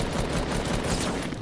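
Dense burst of automatic gunfire in the Fortnite video game, loud and continuous across the short moment with no pauses.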